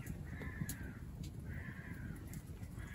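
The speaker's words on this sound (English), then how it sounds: "crows are flying about" Crows cawing around a Scottish wild camp with a hot tent, two drawn-out calls standing above a steady low rumble of fire and outdoor ambience, at moderate distance.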